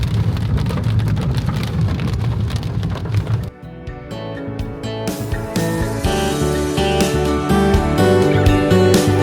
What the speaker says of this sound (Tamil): வெளியில லைட்டா மழையும் பெஞ்சிட்டு இருக்கு.